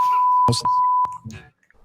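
A steady high-pitched beep tone runs continuously, broken by short bursts of noise and a brief voice, then stops abruptly.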